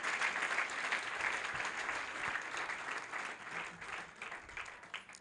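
A church congregation applauds God in a steady wash of clapping, dense and sustained for several seconds with gently swelling and fading intensity, no talk over it.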